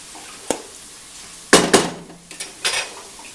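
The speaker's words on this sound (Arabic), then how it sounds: "كي قلت لكم هاد البصله حتى تشحر حتى طيح شويه" Onion and small diced chicken cubes frying in a pan, with a low sizzle under loud clattering utensil strikes and scraping against the pan.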